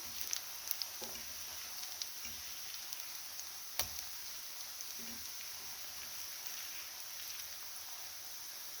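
Apple fritters frying in a pan give off a steady, soft sizzling hiss with scattered small pops and ticks, fairly close and consistent throughout.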